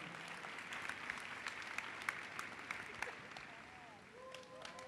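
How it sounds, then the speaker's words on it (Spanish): Congregation clapping at a church service, a steady, faint patter with a few sharper claps, while voices call out over it. "¡Vamos a aplaudir a Jesucristo!"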